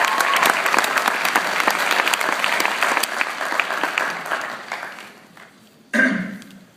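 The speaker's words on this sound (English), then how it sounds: "Let's give them a round of applause." An audience at a Mr Heritage 2015 pageant claps in sustained, dense applause that gradually fades, followed by a brief swell of crowd noise and voices at the end.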